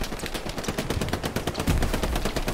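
MP40 submachine gun fire in the Hell Let Loose video game, loud rapid automatic bursts of shots hammering away in quick rhythm, with no talking.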